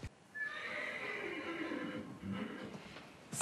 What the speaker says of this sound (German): Bekommt denn Dr. M eher eine Karotte oder Hafer?